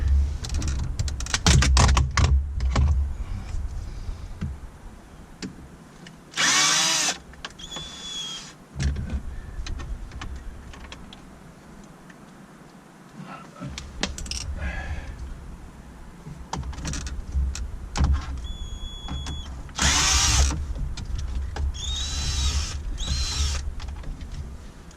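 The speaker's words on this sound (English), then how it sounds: "let's start taking these bottom screws out" A power drill backing screws out of the underside trim of a Mini R60 Countryman S, with several short whining bursts between clicks and handling noise, close by, with occasional faint movement in the background.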